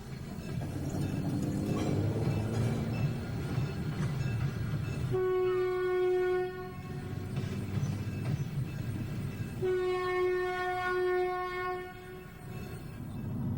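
A Toledo, Peoria and Western local freight train crossing the Union Pacific rumbles steadily while its horn blows two long chord blasts, the second after a short pause, heard from a moderate distance.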